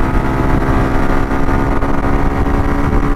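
A motorcycle with freshly rebuilt piston rings runs hard close by, giving a loud, steady engine roar that holds without a break and has no talk over it.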